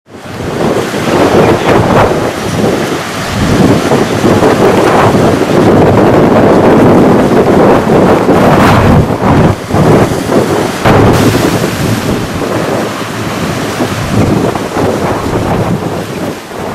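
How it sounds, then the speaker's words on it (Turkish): Roaring storm wind with heavy waves crashing against the shore in Çanakkale, Turkey, loud and continuous with repeated surges and no voices. "fırtına nedeniyle dev dalgalar kordon boyunda sahili adeta dövdü"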